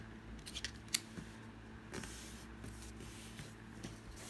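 An edge of a paper banner being folded in, giving faint crinkling and rustling paper with a few crisp creases, close up against a low steady background hum.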